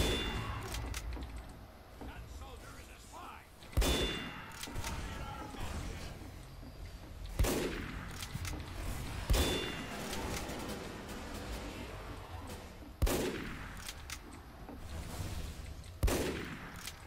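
Gunshots in a video game, several sharp single shots spaced a few seconds apart over a busy game background while players talk throughout.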